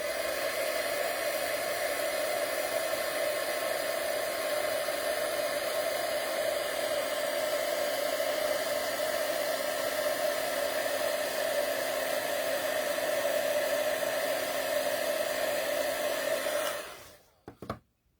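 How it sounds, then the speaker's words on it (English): An electric heat tool melting embossing powder for a handmade card blows with a loud, steady, hair-dryer-like whir for about seventeen seconds, then switches off and falls quiet. "Okay, we're going to use our heat tool again,"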